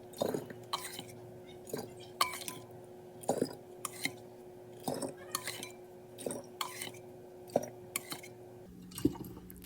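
Homemade apple cider goes into a container, heard as a steady series of close clinks and soft liquid splashes and dribbles, with a low hum underneath.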